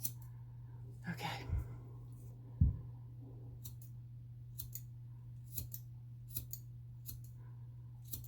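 Scissors snip through hair during a DIY soft shag haircut, a few close crisp snips and small clicks spread unevenly, with a faint steady hum underneath and no talk.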